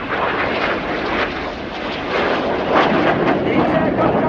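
Two display jets at the RIAT air show at RAF Fairford crossing about 30 metres apart, a loud, broad, continuous jet roar that swells and surges near the end.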